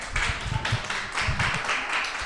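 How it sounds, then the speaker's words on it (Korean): A church youth-group congregation claps to welcome a teacher coming up to lead the program, a steady stretch of group clapping with a room echo, no speech over it. "우리 영민 쌤 나올 때 박수로 맞이하도록 하겠습니다."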